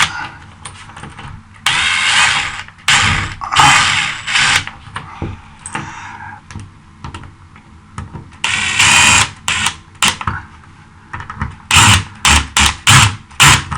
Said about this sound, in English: It's very easy with an impact to just crank it down too fast, too tight, too fast.